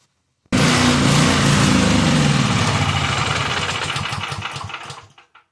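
A portable generator engine runs steadily and loud, its drone slowly sagging and sputtering as the carburetor runs out of fuel, then cutting out near the end.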